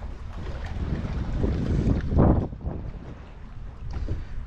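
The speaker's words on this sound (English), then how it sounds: "the wind is blowing, so you may have a hard time hearing me" Wind gusts buffet the microphone outdoors beside a boat, a low rumbling roar that swells and eases in uneven pulses, with no voices.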